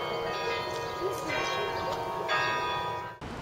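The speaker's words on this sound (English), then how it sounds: "Ferguson says he is more than ready to be playing the bells more frequently and with more authority" Carillon bells of the University of Texas ring in sustained, overlapping tones, loud and close, with strikes layering into a rich ringing wash before cutting off abruptly near the end. Voices may murmur faintly beneath.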